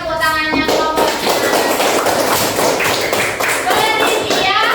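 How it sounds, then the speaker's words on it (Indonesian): Children clapping in a classroom for a group, fast, dense and loud hand taps continuing throughout, with children's voices chanting and talking over them. "Mana tepuk tangannya kelompoknya?"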